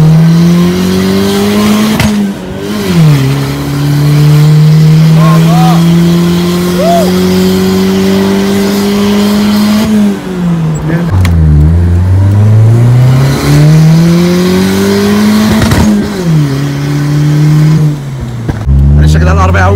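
A turbocharged 1992 Honda Civic accelerates hard through repeated gear pulls, engine rising and dropping loudly and near, with brief whooshes at the shifts from the blow-off valve and a voice talking over it.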